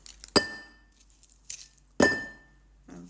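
Two bright glass clinks ring out about a second and a half apart in a cheers toast over frozen watermelon with honey and milk, each with a short ringing tail, alongside soft handling noises.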